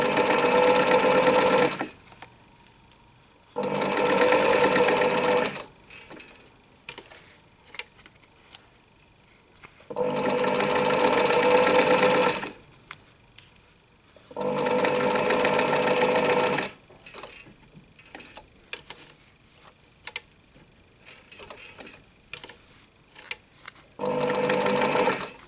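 A sewing machine stitches along the edges of a fabric piece, running in four loud, sustained bursts of about two seconds each, separated by quieter pauses with faint handling and shuffling of the cloth.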